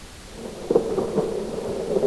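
Distant thunder rolls low and steady, a soft rumble with a few faint swells and no voices.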